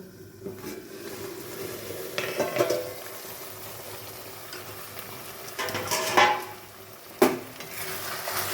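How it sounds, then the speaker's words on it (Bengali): A metal lid comes off a pot of taro stolons simmering in a traditional Bengali dish, with a few sharp clanks and clatters close by against a quiet kitchen background; no one speaks. "এবার ঢাকাটা তুলে দেবো"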